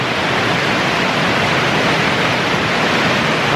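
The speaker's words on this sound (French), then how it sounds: "les petites cascades comme ça." Small waterfalls spill through a little stream right beside a mixed onsen, producing a steady, close, even rush of falling water with no voices.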